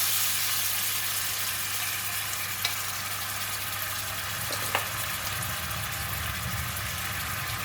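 Pork belly frying in a pan with a few spoonfuls of mixed sauce added, a continuous steady sizzle under a low hum, with a couple of faint clicks and no voices.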